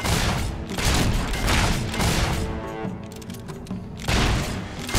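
A repeater gun in Fable 3 fires in a dense, continuous volley of loud booming shots that mask one another, with a short easing near the middle before the barrage picks up again.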